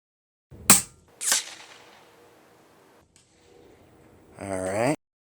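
A Taipan Veteran Long .25 air rifle at 14 power fires a 33-grain JSB pellet from a single-shot tray: one sharp, loud crack followed by a quick second report, then quiet, with a brief voiced sound at the end.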